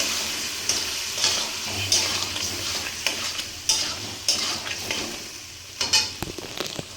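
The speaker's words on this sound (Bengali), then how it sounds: "এবার কষাবো এটাকে ভালো করে যতক্ষণ না তেল ছেড়ে দেয় এর থেকে" Spice paste of chilli, garlic, salt, turmeric and cumin with potatoes being stirred and sautéed in oil, giving a soft sizzle under repeated spatula scrapes and clinks against the pan, close and moderately loud.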